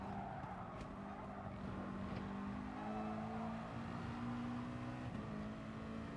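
A race car in the GT Sport racing game revs out hard, its engine note held high and droning at moderate distance, with a slight shift in pitch partway through, quiet and steady throughout.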